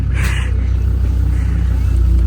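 A Land Rover Defender TD5 diesel engine drones with a loud, steady low rumble while driving across Tunisian desert, heard from inside the vehicle and continuous throughout.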